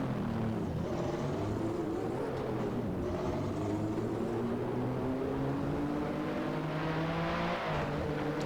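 A Williams FW11B turbo Formula 1 car in the Assetto Corsa racing game, its engine droning and rising steadily in pitch through the gears, a continuous loud onboard roar with shifting harmonics and no talking.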